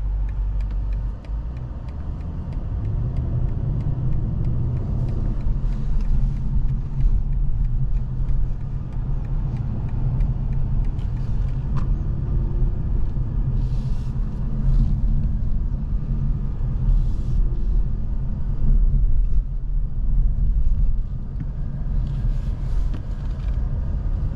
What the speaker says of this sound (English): we're gonna pull in here and we are going to show you guys the parking assistant professional, the self-parking feature that this car has